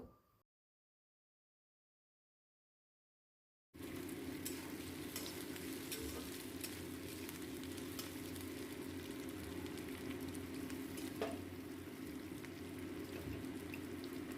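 After nearly four seconds of silence, vegetables stir-fry on high flame with ginger garlic paste and chopped green chilli, giving a loud, steady sizzle with scattered crackles and stirring scrapes.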